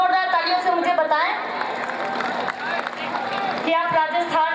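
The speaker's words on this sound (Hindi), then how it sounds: "एक बार जोरदार तालियों से मुझे बताएं" An audience at a mushaira poetry gathering in Karauli, Rajasthan breaks into clapping that swells in the middle. An amplified voice keeps speaking over the clapping and after it fades.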